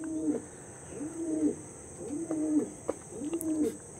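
Green pigeons coo in a steady series of four soft, rolling calls, close by and alone, over a constant high insect-like hiss and faint chirps.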